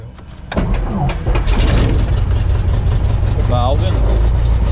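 A Cessna light aircraft's piston engine cranks and catches at about half a second, then runs steadily and loud close by with a rough propeller throb, while voices talk over it.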